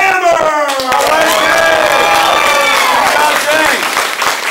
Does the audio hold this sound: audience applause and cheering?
yes